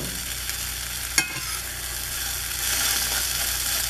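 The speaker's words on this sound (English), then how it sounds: "I'm just barely moving the spatula across the surface here" Cheddar and Monterey Jack folded into eggs in a skillet with a spatula, a steady bright sizzle with one sharp scrape of the utensil early on, the frying growing a bit louder toward the end, no talk.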